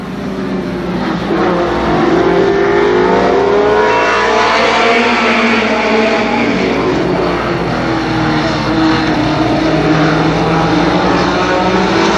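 Race cars at Columbus Motor Speedway in 1991 roar around the track in a loud, continuous layered engine drone, several motors overlapping as they sweep past, with no voices audible.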